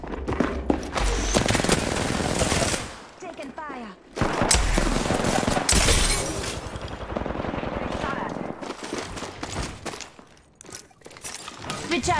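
Bursts of automatic gunfire in the battle game Apex Legends, loud and close in several volleys separated by short pauses, with a voice talking over the action.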